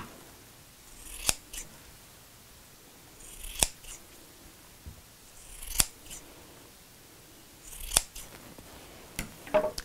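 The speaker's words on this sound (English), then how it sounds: "Can you see I'm cutting triangles?" Scissors snip through felt, cutting out triangles for a felt dinosaur's back spines. About five crisp, close cuts come at a slow, even pace with quiet pauses between them and no talk.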